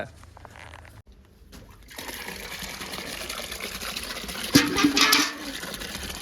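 Diesel pours from a drum into a bucket with a steady gushing fill that swells into a louder, splashier rush partway through before settling again.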